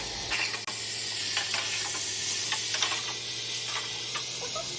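Tinda (apple gourd) pieces cooking in a pan over low heat, giving a steady soft hiss and sizzle with a few faint clinks and scrapes, no talking.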